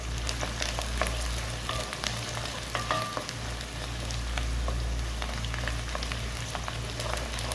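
Whole spices, including cinnamon, black cardamom, curry leaves, star anise, coriander seeds, cloves and nutmeg, crackle and spit in hot oil for chicken tikka karahi, a dense steady sizzle over a low hum, with light scattered pops.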